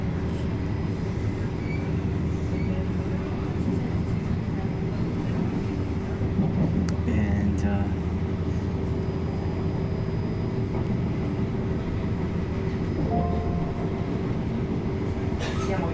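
Passenger train pulling into Roma Tiburtina station, a steady loud rumble of wheels and carriage noise throughout with a brief squeal and rattle midway, heard up close from on board.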